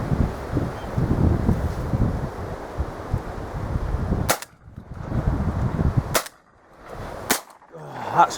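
Shotgun shots fired at woodpigeons over decoys on a maize field, three sharp loud cracks spaced apart, the first two close together after a stretch of wind and rustling, with a faint voice near the end.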